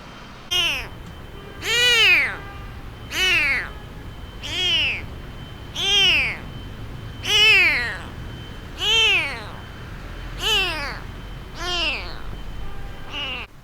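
A blind stray kitten with badly diseased eyes meows repeatedly, about ten clear, rising-and-falling cries spaced evenly and close to the microphone, with no other voices.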